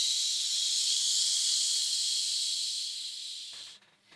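A person forcefully exhales to imitate a pressure cooker's hiss: one loud, sustained, bright breath lasting about three and a half seconds before trailing off abruptly.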